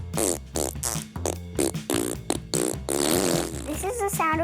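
A child imitates a T-Rex fart with the voice: a run of loud, sputtering, rumbling blasts in quick bursts, ending in a rising squeaky trill, all close to the mic.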